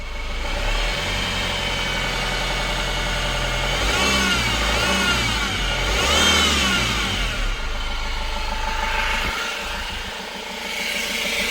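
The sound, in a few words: Renault Master van engine idling and whining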